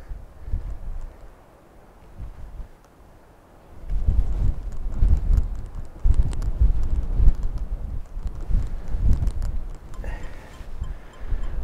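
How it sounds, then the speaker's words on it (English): Wind gusts outdoors in the Lake District, buffeting the microphone with heavy low rumbles that rise and fall, quieter at first then strengthening, with faint rustling. "Wind's picking up now."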